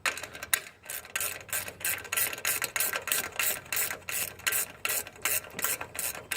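A ratchet wrench tightens the chain stay hardware on a Rugged Cycles Transporter 2.5 bicycle, giving close, rapid, evenly spaced clicking strokes in a steady repeating rhythm with brief pauses, no voices.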